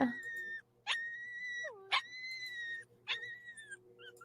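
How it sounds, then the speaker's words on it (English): A frightened stray dog whimpers in high, drawn-out whines, several separate cries with short gaps, some sliding down in pitch, close and fairly clear over a low background hum. "Poor doggy. Oh, he's so scared."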